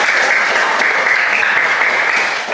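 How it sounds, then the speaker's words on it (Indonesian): Classroom full of students clapping together in a steady, dense wash of applause that holds evenly and fades slightly at the very end. "tepuk tangan buat"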